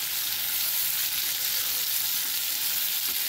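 Onion and whole spices sautéing in hot oil for a bitter gourd curry: a dense, continuous sizzle and crackle heard up close, steady throughout with no speech.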